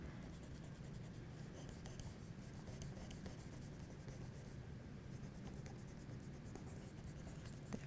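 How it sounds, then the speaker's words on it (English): An eraser rubs out pencil drafting lines on paper, a continuous soft scratchy rubbing heard close up and quiet, without talk. "And then I can erase out this part here."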